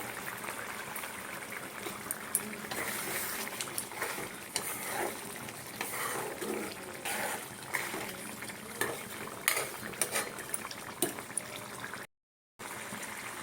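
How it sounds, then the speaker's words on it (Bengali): Egg korma bubbles in a pan, a soft, steady simmer with small pops and spatters throughout, fairly quiet and close, with no talking. "দেখো ওই জিনিসটা ফুটছে"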